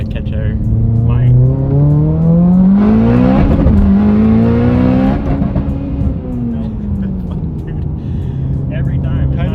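A Subaru STI engine pulls hard up a hill, loud and close, its rising revs climbing in pitch, dipping at a gear change, then building again.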